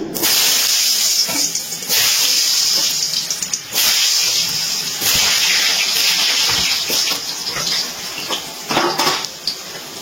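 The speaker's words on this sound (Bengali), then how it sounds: "তেলটা গরম হয়ে গেছে, এবার আমি এর মধ্যে দিয়ে দিচ্ছি আলুগুলো" Diced potatoes frying in hot oil, a loud hissing sizzle close by with pot and utensil clatter and brief bursts of movement throughout.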